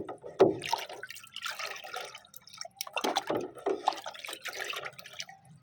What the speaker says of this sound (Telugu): ఒక్కసారి కింద నుంచి పైకి మిక్స్ చేసుకుందామండి